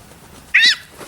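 A single clear cat meow, close and fairly loud, rising out of a quiet outdoor background during a deer-processing session in town.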